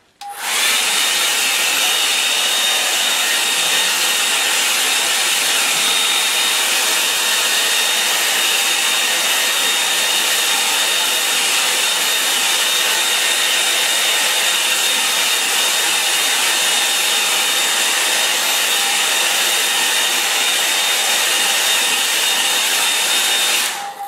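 A hair dryer blows steadily on a watercolour lake painting, a loud, constant whirring hiss that runs unbroken from start to finish with no talking.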